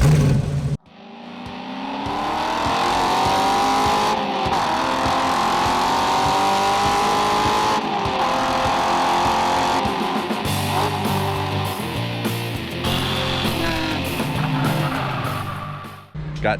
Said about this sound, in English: we are racing the Mustang again, this time at Laguna, Seca